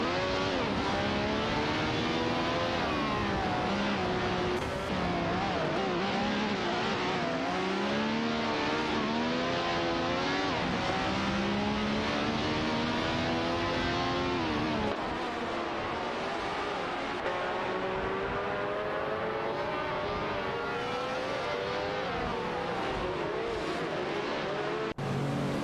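Several AI-driven race cars in a racing video game roar continuously, engines revving and shifting through rising and falling pitch sweeps as they chase each other around the track, loud and sustained throughout.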